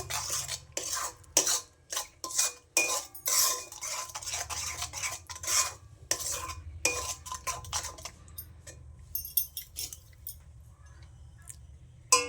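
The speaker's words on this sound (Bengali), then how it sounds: "মশলাগুলো সব আমি একসাথে ভালো করে মিশিয়ে নিচ্ছি" A spoon scrapes and clinks against a bowl while spices are mixed with oil for a rohu fish dish, irregular close taps and wet stirring that thin out into quieter scraping.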